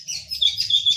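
Small birds in an aviary chirp and tweet nonstop, with bright, thin, overlapping calls close by over a faint low hum.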